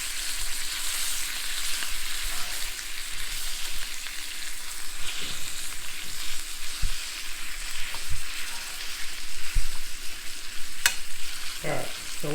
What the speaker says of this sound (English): I like my trout a little bit crispier when I'm pan frying it